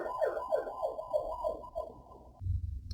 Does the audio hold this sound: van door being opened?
no